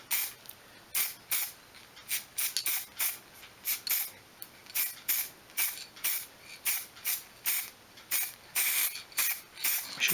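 Repeated short bursts of aerosol spray paint laying a light first coat of red onto a vintage oil can, each hiss lasting under a second with brief pauses between, close and fairly loud, no talking.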